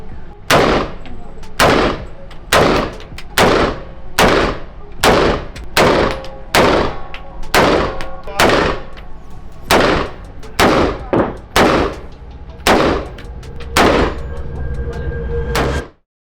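Repeated gunshots at a shooting range, about fifteen sharp, loud, close reports in an uneven rhythm with short gaps, some in quick pairs, and no talking.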